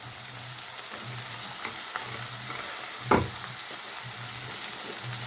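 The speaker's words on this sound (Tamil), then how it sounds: "நான் 2 மீடியம் சைஸ் கேரட்டை கட் பண்ணி வச்சுருக்கேன், சின்ன சின்னதாக. அதை நம்ம இப்போ போட்டுக்கலாம்." Small chopped carrot pieces fry in a pan for a carrot chutney, giving a steady soft sizzle with occasional stirring scrapes and one sharper clatter midway, close and without speech.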